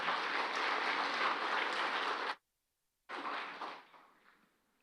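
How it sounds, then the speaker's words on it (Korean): Audience applause at a 2022 charity festival talk: a broad wash of clapping hands that stops abruptly, falls silent for under a second, then swells again and slowly thins out. "박수 부탁드려요. 박수."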